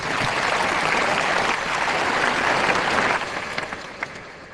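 Steady crowd applause at a Korean church prayer gathering, welcoming speakers; dense, sustained clapping that fills the room for several seconds, then thins out with a few scattered claps near the end.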